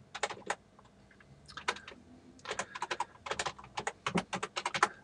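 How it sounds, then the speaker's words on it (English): Quick bursts of keystrokes on a computer keyboard, close and crisp, arrive in short irregular clusters with brief pauses between them. "you can type in the address there"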